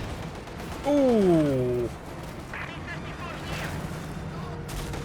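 Bundle grenade blast and gunfire in a Company of Heroes 2 battle, heard as a low distant rumble with scattered faint shots, plus a brief descending synthetic tone and a voice exclaiming once.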